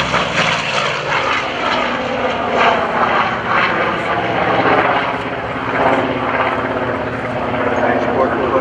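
A loud F4U Corsair piston engine roars steadily overhead during an air show demo, its deep droning rising and falling slightly as the plane passes.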